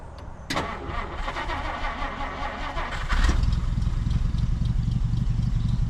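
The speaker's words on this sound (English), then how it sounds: "let's try turning it on and seeing if maybe that helps, or maybe adjusting the idle." A 1950 Dodge Meadowbrook's engine cranks and catches, then settles into a steady, loud rumbling idle close by, with no voices.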